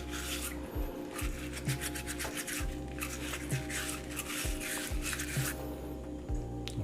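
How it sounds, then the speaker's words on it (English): Soapy scrubbing of a Breville Cafe Roma espresso portafilter: repeated back-and-forth rubbing strokes in an even rhythm, close and fairly quiet, with a faint steady hum underneath. "So let's use some soap. And try to rub it off as much as possible"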